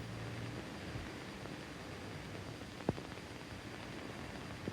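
Steady airplane engine drone inside a film scene, a continuous broadband roar at even loudness with a single brief thump partway through.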